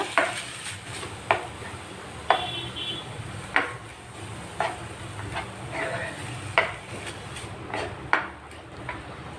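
Repeated scraping strokes of a spoon stirring grated coconut in a pan over medium flame for coconut barfi, regular rhythm with light sizzling underneath.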